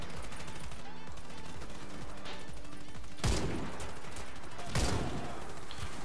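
Gunfire in the online shooter Warface, rapid automatic bursts crackling steadily with two heavier, louder bangs standing out, and someone talking now and then.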